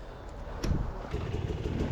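Hard enduro motorcycle engine droning and revving on a forest trail, a low steady rumble that swells slightly partway through, moderately close with no talk.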